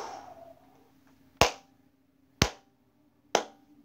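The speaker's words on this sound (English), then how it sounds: "I give you the claps." Three sharp, loud hand claps spaced about a second apart, each crisp and close with a quick decay, following a brief murmur and otherwise quiet surroundings.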